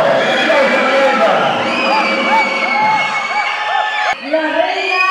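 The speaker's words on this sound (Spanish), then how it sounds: "Un aplauso para ella." A crowd whoops and cheers loudly for a parish pageant queen at a local event, with shrill celebratory shouts and wavering whistles over constant noisy voices, a sharp break near the end.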